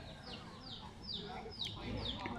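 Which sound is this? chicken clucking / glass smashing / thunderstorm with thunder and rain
chicken clucking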